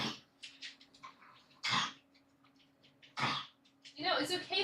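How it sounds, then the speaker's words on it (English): A dog with a treat clamped in its mouth coughs and hacks in several harsh, broadband bursts spread across a few seconds, with a person talking softly between them and a steady low hum underneath. "he's like struggling to like get his cough up because he does not want to let go of the treat"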